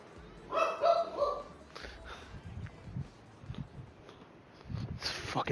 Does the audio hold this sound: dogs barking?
yes